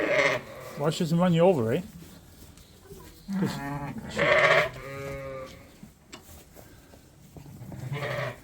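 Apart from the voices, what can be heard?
Suffolk ewe bleating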